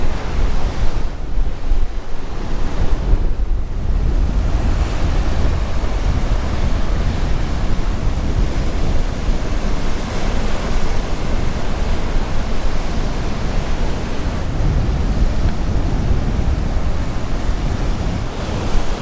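Ocean waves smash on rocks along the rugged coast of south-west Western Australia, a loud, continuous roar of surf and spray with wind buffeting the microphone, no voices.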